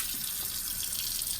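Running water from a faucet while a bowl is rinsed in a sink, a steady broadband hiss and splash at moderate level throughout, with no voices.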